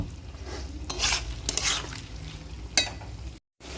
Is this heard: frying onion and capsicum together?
yes